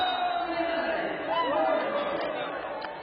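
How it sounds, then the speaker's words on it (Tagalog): Noisy, lively crowd chatter and cheering fills a volleyball arena during a Spikers' Turf men's match, a steady wash of many voices throughout with a brief swell in the middle. "Really lively, noisy crowd here"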